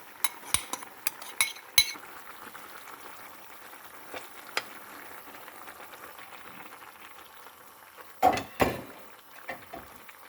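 Cheonggukjang, fermented soybean paste loosened in water, is stirred into a stew that has boiled about fifteen minutes over medium heat: a soft simmering murmur broken by a quick run of spoon clinks against the pot early on and again near the end.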